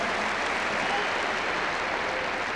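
Steady, dense applause from an audience at a jojutsu martial arts demonstration, continuous and fairly loud throughout with no pauses.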